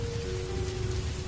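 Rain falls steadily on a rainy night, a dense even hiss with a soft low patter beneath and a faint steady hum running through it, no voices.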